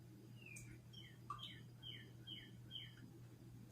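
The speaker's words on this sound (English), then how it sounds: "There's a nice little bird singing." A small bird sings outside in a series of short, repeated chirping phrases, faint and distant, over a steady low indoor hum.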